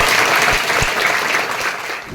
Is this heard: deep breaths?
no